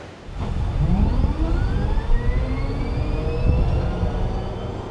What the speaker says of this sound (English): what you're hearing right now is the turbine sound of the engine